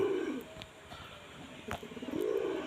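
Pigeons coo in soft, rolling low phrases, several calls spread across a short stretch with faint background noise and no talk.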